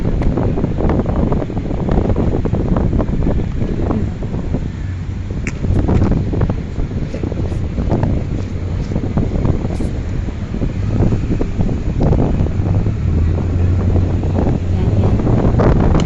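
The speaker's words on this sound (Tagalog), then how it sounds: "Lakas kasi ng hangin no?" Strong wind buffets the microphone in heavy, rumbling gusts throughout, loud and close, with occasional faint clicks and no speech.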